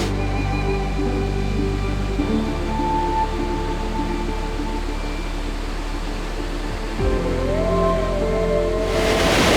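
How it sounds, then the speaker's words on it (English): A woodland waterfall with cascades pouring into a pool in autumn, giving a steady, loud broadband rush of falling water that continues unbroken throughout, with no talking. "The water's coming down here. This is the waterfall."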